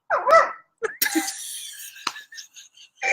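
A person throwing their voice to imitate a dog, producing a few short, sharp vocal barks and yips in quick bursts, close and fairly loud, with brief breathy noises between them.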